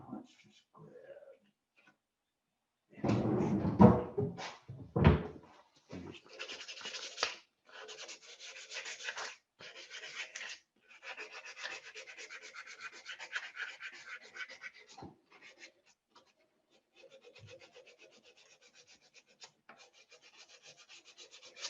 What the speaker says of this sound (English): So let me find my sanding pad, which should be around here.